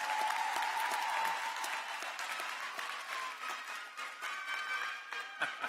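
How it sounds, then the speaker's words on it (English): Sustained audience applause at a high school commencement honoring parents, grandparents and family members, a steady dense clapping wash from a large crowd that holds for the whole stretch. "Give them all another round of applause."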